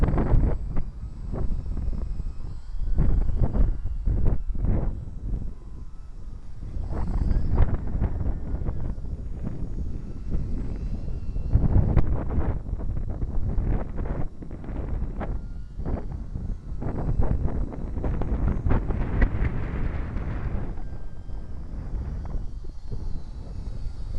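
A small UMX Beast RC plane flies in gusty wind, its thin electric motor whine rising and falling while wind buffets the microphone with rumbling bursts, fairly near and continuous.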